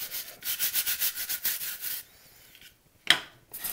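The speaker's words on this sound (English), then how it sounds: "brush my hands back and forth, all different directions, different angles." Stiff brush scrubbed back and forth across dirty hands after gardening, a loud repeated rasping rub for about two seconds, then quieter strokes and a sharp brief scrape near the end.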